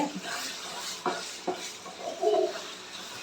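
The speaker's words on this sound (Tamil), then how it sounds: "அப்பப்போ எடுத்து கலரி விட்டுட்டே இருங்க" Spoon or spatula scraping and clinking in a pan while stirring mutton pepper fry, a few separate knocks and scrapes at close range, no voices.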